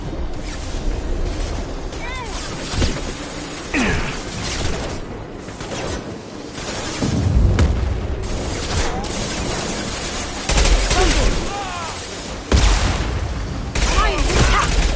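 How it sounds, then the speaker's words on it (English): Weapons fire from the Mass Effect 2 game crackles and booms repeatedly across the scene, bursts and impacts mixed with loud, busy combat noise and some talking. "Firing now."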